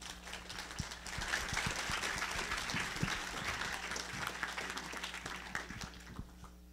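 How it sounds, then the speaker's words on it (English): An audience at a live talk event breaks into sustained applause, a dense wash of many hands clapping that holds steady for several seconds before thinning slightly toward the end. "Please, a round of applause for Ty Patton."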